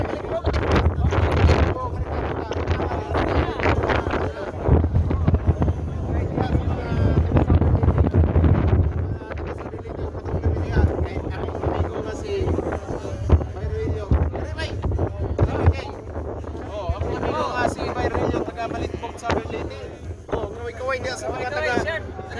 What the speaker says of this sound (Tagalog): So windy eh.